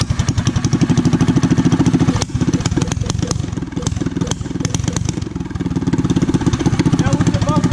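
A Power Wheels build fitted with a small engine and a new exhaust with no muffler runs loud and close. It makes a rapid, steady, rattling putter that dips briefly in the middle before holding steady again.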